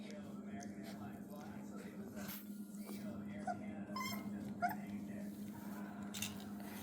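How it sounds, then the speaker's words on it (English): Very young puppies, a litter of four, whimpering softly and intermittently against a steady low hum, with faint high whines scattered throughout. "And these are just the fattest puppies because there's only 4"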